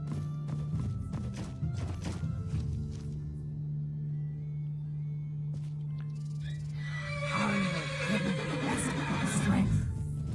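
A horse in the Skyrim video game whinnies loudly near the end, over steady game background sound, with a voice heard earlier in the clip.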